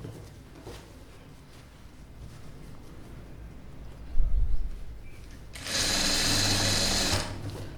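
A sewing machine stitches an old blouse, running in one steady motorised burst of about a second and a half after quieter handling noises and a brief low thump, with no talk.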